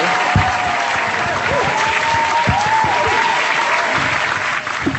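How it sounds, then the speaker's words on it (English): Steady applause from a crowd fills the whole stretch, dense and continuous, with a few whistles rising above the clapping. "Big round of applause for her."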